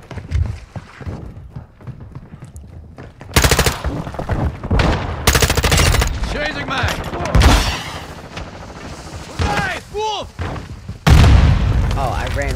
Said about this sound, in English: Oh, I ran right into the grenade.